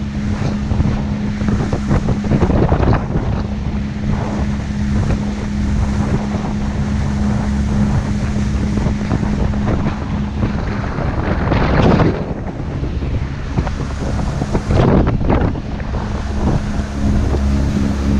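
Strong, cold wind roars and buffets the microphone continuously aboard a boat, mixed with a low engine rumble and water sounds, with gusts swelling and easing.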